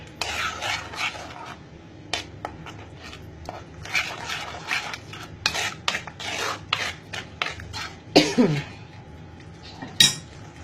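A spoon scrapes and rubs around a pan of Kerala fish curry mixture with tamarind, in irregular close strokes with occasional clanks against the metal, with no talk.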